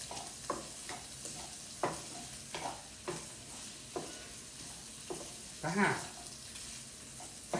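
Food fries in a pan with steady rhythmic stirring, the utensil scraping and knocking at short intervals over a low sizzle, close and quiet, with a brief spoken word partway through.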